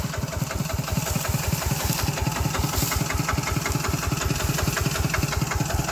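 A heavy diesel farm tractor engine chugs steadily in a fast, even knocking rhythm, close and loud throughout with no pauses, while rice is hauled for threshing.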